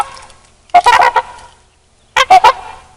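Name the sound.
flock of swans honking overhead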